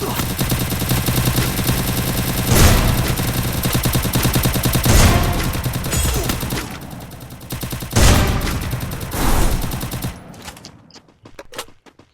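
Loud, dense gunfire in the video game Free Fire: sustained automatic bursts with heavy impacts, ending in a few scattered shots and quieter clicks.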